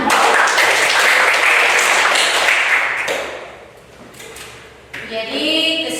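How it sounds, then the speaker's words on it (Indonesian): Applause in a classroom as students clap together for a few seconds, dense and fairly loud, fading toward the middle before a brief burst of voices and clatter at the end. "Oke, tepuk tangan."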